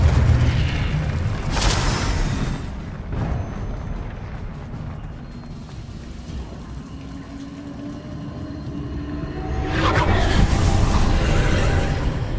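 Confringo fire spells burst in booming explosions during Hogwarts Legacy combat, with heavy impacts near the start and a big blast toward the end amid rumbling game effects.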